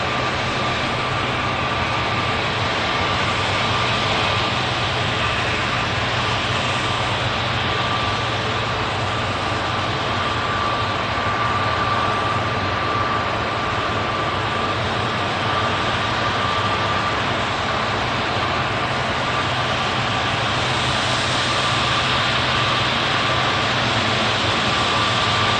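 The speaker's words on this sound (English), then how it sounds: "One of my favourite Embraers out there." Embraer jet airliner at Manchester Airport, a steady loud roar of engine noise held constant throughout, with a faint tonal whine running through it and no talk.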